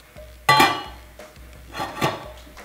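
Ceramic plates knock and clatter together in a home kitchen during spaghetti-with-tomato-sauce preparation, one sharp loud clash followed by a few softer clinks and rattles, close by with no talking.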